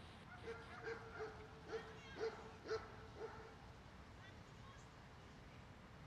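A dog in fetch training on a bite sleeve gives a series of short, high yips and whimpers in a quick run of about eight, then quiets. The sound is faint and backed by a low rumbling hum.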